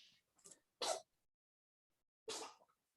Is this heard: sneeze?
yes